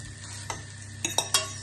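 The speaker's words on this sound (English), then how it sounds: "it'll probably sizzle a little bit, but that's because it's got water in it and it's just the oil mixing with the water" Soft sizzling of cooked rice frying in hot oil for egg fried rice, with a few stirring scrapes and brief crackles over a low background hum.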